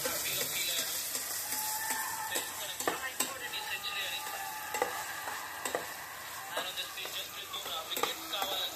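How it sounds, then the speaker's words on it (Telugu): Chicken curry cooking, with food sizzling and frying steadily in a pan while being stirred, occasional sharp scrapes and clinks over a constant hiss. "అలా 10 నిమిషాలు ఇట్లా ఫ్రై చేసుకోవాలి"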